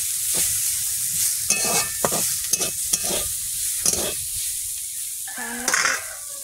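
Potatoes fry in a hot pan with a steady sizzling hiss, broken by a series of scraping stirs and clinks of a spatula against the pan, close and clear, with no speech.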